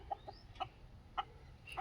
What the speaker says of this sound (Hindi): ये मेरे प्योर देसी मुर्गे हैं।